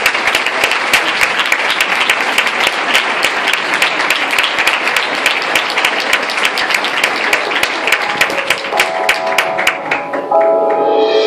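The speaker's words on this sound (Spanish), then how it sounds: "Fuerte el aplauso." An audience at a ballet dance performance in Barrial de Gáldar gives loud, dense, continuous applause. Near the end, music begins to come through the clapping.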